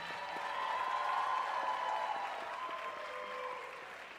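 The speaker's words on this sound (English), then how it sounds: "So let's give another round of applause to all the dancers." An audience applauds dancers at a classical dance championship, a steady wash of clapping that holds at an even level, swells slightly midway and then eases a little.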